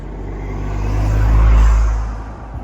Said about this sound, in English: we have another vehicle coming past